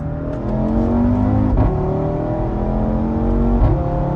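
An Audi RS3 revs hard with loud exhaust, rising engine tones climbing and dropping twice, heard close up from inside the car with no talking.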